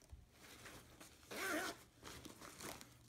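A backpack pocket zipper on a 5.11 Rush 12 pack is pulled open in one quick, close zip lasting about half a second, with faint handling rustle before and after.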